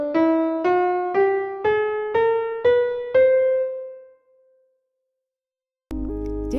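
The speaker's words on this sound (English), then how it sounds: "The harmonic 8 scale in 41 Edo sounds like this." The harmonic 8 scale in 41-EDO tuning rings out as six clear, evenly spaced synth tones climbing stepwise, the last note decaying into near silence before a bright new tone enters abruptly at the end.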